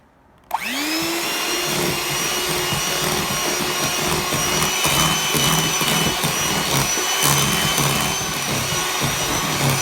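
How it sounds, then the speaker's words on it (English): An electric hand mixer switches on sharply and runs steadily, beating flour into shortbread cookie dough with a continuous loud whirring drone and faint scraping against the bowl, with no talk. "using my mixer, I'm gonna just mix it together"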